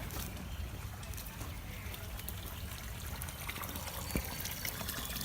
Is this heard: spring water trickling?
yes